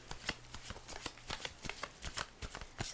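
A Ceccoli tarot deck is shuffled by hand, a quick run of soft riffling card flutters in close, uneven bursts, fairly quiet with no voice.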